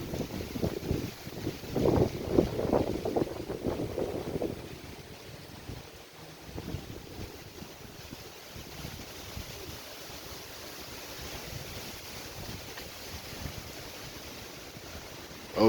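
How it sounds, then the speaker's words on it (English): Blustery wind gusts from Tropical Storm Zeta, 10/29/20, buffet the microphone outdoors, loudest in a rough burst over the first few seconds, then settling into a steady, lower rushing roar. "That wind blowing right here."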